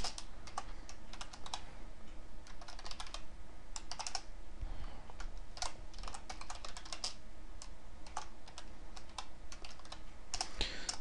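Someone types code on a computer keyboard in quick irregular bursts of clicking keystrokes, with short pauses between runs, close and fairly quiet against a faint room background.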